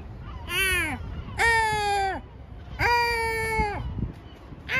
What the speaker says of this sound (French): Entends les mouettes